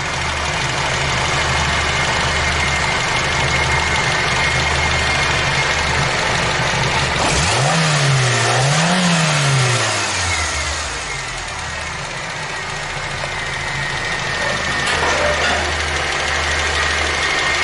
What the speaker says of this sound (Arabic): شوفوا محرك يعني